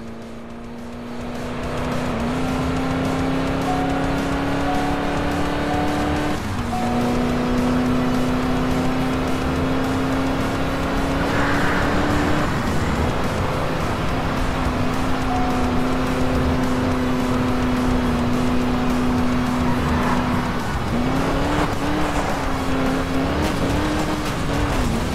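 Car driving fast in the video game Crash Time 5 Undercover, its engine droning loud and steady throughout with pitch rises and dips at gear changes and a faint tire squeal.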